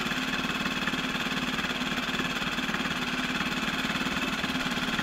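A Parsun 6 hp outboard motor with a modified carburetor runs steadily close by, its constant hum carrying a fast, even pulsing and a slightly uneven idle, with no voices over it.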